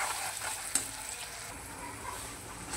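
Masala paste frying in butter and oil for bhindi masala gives a steady, close sizzle with a single sharp tick of a utensil against the pan.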